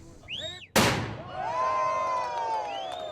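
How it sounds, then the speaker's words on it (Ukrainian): One sharp, loud cannon salute boom at the Statue of Liberty's 125th anniversary in New York Harbor rings out, its echo rolling on under distant crowd noise and whistling tones. "Постріли гармат"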